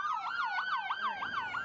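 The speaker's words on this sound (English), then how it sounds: "Emergency vehicles race down streets with lights flashing and sirens blaring." A wailing emergency-vehicle siren sweeps up and down in quick repeated cycles, loud and steady, with faint traffic rumble beneath, during a first-responder disaster drill.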